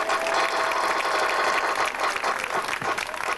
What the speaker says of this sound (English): Let's have a round of applause for the good doctor